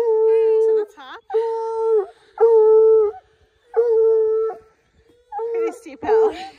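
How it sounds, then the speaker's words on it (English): A dog howls loudly and nearby in a series of long, sustained wails separated by short gaps, rising into yips and whimpers toward the end. "Pretty loud dog."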